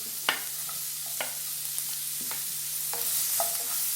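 Two large sliced onions sautéing in a tablespoon of butter in a pan give a steady close sizzle, with a spatula scraping and tapping against the pan about every second.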